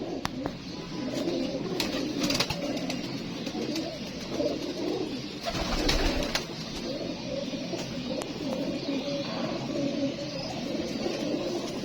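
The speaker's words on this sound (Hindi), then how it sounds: "ये आ गया ये कबूतर" Pigeons, teddy pigeons kept by a fancier in Karachi, coo continuously close by, their soft throaty calls overlapping against a dense background of rustling and flapping.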